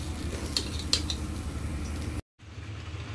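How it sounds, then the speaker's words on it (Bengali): Rice frying in a pot for mutton leg biryani, a soft steady sizzle with a couple of sharp clinks from stirring near the start, then a brief cut to silence before the sizzling resumes. "চালটা এখন কিছুক্ষণ ভেজে নিব"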